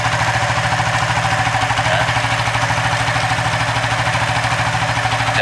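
A Suzuki FU 150 fuel-injected motorcycle with a bored-up engine runs at a steady, even idle right after an easy start, close and loud with a regular pulsing beat. A voice says a single brief word over it.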